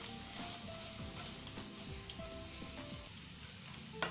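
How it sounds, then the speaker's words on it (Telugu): Raw banana slices frying in oil, a steady close sizzle filling the pan with a bed of hiss and occasional crackles and faint utensil clinks, no voices. "క్రిస్పీగా రావాలంటే కాసేపు ఎక్కువగానే ఫ్రై చేసుకోవాలి."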